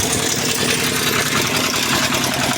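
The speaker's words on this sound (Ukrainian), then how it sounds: "Ось я вже його завів." A walk-behind tractor engine runs steadily just after starting, a loud, close, rough mid-pitched idle with constant vibration and no pauses.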